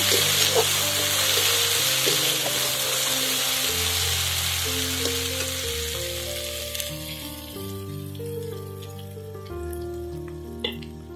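Food sizzles loudly in a pan as turmeric powder is stirred in, a dense crackling hiss that gradually fades, with steady background music playing throughout.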